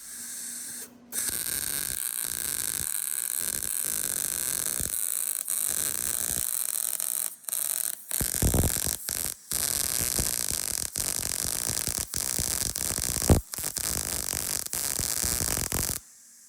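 Hobby wire-feed welder laying a bead on metal on a table, a loud continuous crackling hiss in long bursts broken by short gaps, with one sharp pop near the end.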